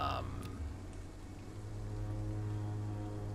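Steady rain hiss fills a game scene in Vampyr set in Whitechapel, a broad wash of patter running throughout with a low hum beneath and faint voice traces.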